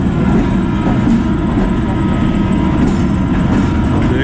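The Pakistan Railways Mehr Express rolls along with a steady, loud, continuous rumble of wheels and carriage noise, and faint squeals rise briefly near the end.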